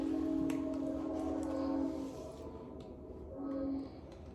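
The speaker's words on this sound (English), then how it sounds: "Y'all hear that train?" A passing train sounds a long, steady horn blast, then a shorter one a moment later, heard from a distance over a low rumble, with no one talking.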